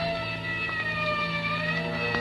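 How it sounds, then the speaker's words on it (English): A siren wails in the distance as a sound effect in a 1946 radio drama, a faint steady tone sliding slowly in pitch, with no voices over it. "And somewhere in the distance I heard a siren"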